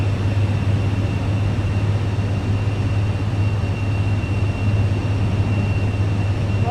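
Steady, loud engine roar of a light aircraft rolling down runway 24 right for takeoff in Microsoft Flight Simulator 2024, a constant drone with a low hum that holds throughout.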